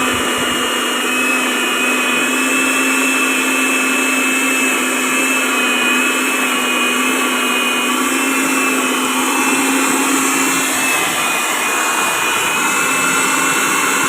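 Vacuum cleaner with a dirt sensor sucking up dirt, a steady loud motor whine with a constant high tone running throughout, no speech.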